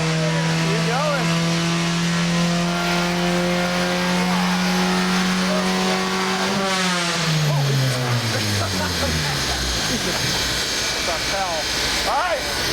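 A Honda Civic hatchback rally car engine holds a loud, steady high-revving drone, then the pitch drops sharply and winds back down into lower, rougher engine sounds, heard close from inside the car with voices now and then.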